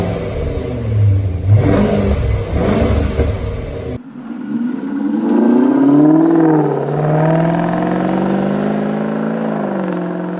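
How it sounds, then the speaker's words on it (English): A Jaguar XJR with a supercharged V8 engine revs loudly and close. The engine note climbs and falls in sweeping pitch changes, with an abrupt cut partway through into a smoother, sustained rising drone. "his XJR is the top spec model of the Jaguar XJ, and it comes with a supercharged V8 engine."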